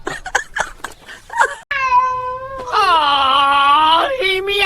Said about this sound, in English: Aww, he meowed at me.